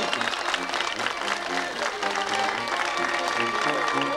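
Audience applause at a 1995 town queen pageant in Aguililla, Michoacán, a steady wash of clapping from a crowd with voices and music running underneath throughout.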